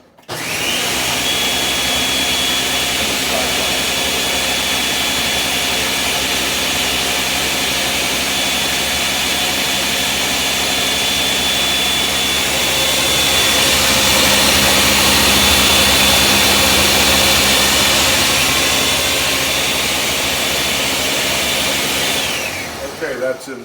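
Blender pulsing tomatoes with extra virgin olive oil for a lamb ragu sauce, a loud steady whirring motor running continuously for over twenty seconds, close up, before spinning down.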